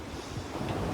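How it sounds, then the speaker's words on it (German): Steady wind rushes past a sailboat under way off Malta, a constant broad roar of moving air and water with faint wave wash, no voices. "Es war nämlich schöner Wind und wir konnten richtig gut segeln."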